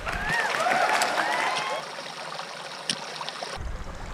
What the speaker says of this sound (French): Le ruisseau là comme ça, on dirait que c'est un truc qui a été fabriqué à la main par l'homme